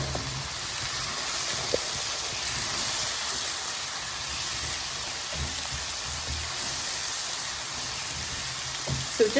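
Dry spices sizzle steadily in a hot karahi, a continuous broadband hiss with faint occasional clicks from stirring, and no talk heard.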